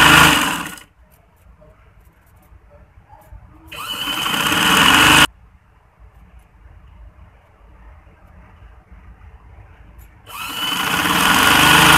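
A sewing machine stitches a lehenga in two loud close bursts of rapid whirring, each a few seconds long, separated by quiet pauses with faint handling sounds.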